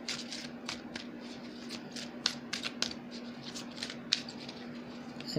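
A tarot deck is shuffled by hand in quick, uneven bursts of crisp card riffles and flicks, close and fairly soft, with a faint steady hum beneath.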